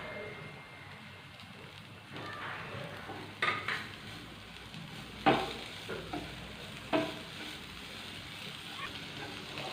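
Fresh coriander leaves sautéing in a hot pan for a breakfast snack give a soft, faint sizzle, broken by a few sharp utensil knocks against the pan.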